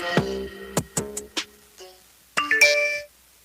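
Phone notification chimes, a quick sequence of bright electronic tones followed by a short second burst, clear and close with no speech.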